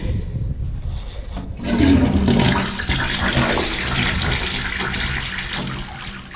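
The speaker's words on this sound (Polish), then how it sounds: "No to spłukujemy." A newly mounted toilet bowl on bolt fixings flushes: a sudden loud rush of water begins after a quieter opening and keeps roaring steadily to the end, close by.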